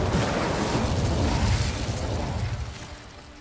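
In Hogwarts Legacy, the Incendio fire spell is cast with a loud whooshing burst of flame, a roaring rumble that swells and then slowly fades away.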